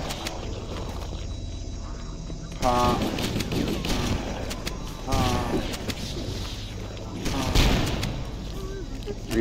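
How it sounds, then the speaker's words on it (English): Rapid bursts of assault rifle fire in the Halo level The Library, crackling loudly in repeated volleys over a noisy battle background, with a voice speaking in between. "Assault rifle."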